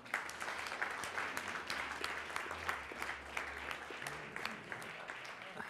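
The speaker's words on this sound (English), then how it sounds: "I do want a special round of applause for staff." Audience applause for the staff of the Boston Symphony Orchestra at a season announcement event, steady clapping sustained throughout at moderate level in a hall.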